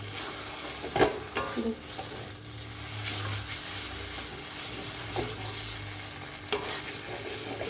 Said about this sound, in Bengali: বাটাটা দেওয়ার পরে খুব ভালো করে কিন্তু কষাতে হবে